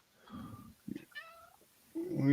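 A cat named Scruffy meows a few times from the background, short rising cries, while a person talks close by.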